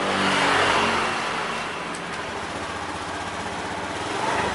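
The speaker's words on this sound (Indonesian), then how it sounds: "Nah kalau digas seperti ini" Car engine revving as the throttle is opened, its throttle body propped with a hose, a loud close roar that swells at the start, settles into a steady drone, then rises again.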